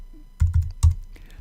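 Several quick keystrokes on a computer keyboard as a search word is typed, three or four close, clicky taps in a short burst against a quiet room.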